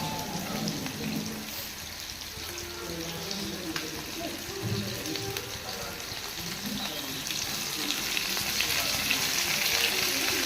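Sardine fish frying in a pan with curry leaves, a steady dense sizzle and crackle throughout, close and continuous, growing slightly louder toward the end.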